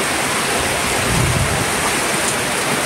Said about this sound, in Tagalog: bigla na lang umulan